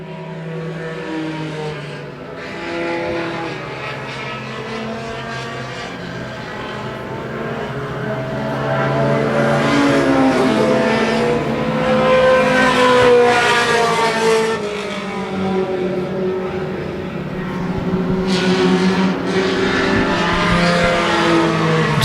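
Outlaw Mini race cars roaring around an oval track in a pack, engines rising and falling as they pass, with loud surges when the cars sweep close and fainter drone as they move away.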